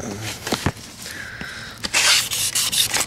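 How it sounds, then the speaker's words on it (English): Rhythmic wet sanding strokes on a headlight lens rub back and forth up close, a gritty swishing that grows denser and louder toward the end. "here I am wet sanding a little bit"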